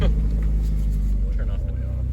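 Engine of a 1996 GMC Sonoma pickup with a swapped-in 2.2L four-cylinder, droning loud and steady from inside the cab as the truck drives fast, with a deep low rumble throughout.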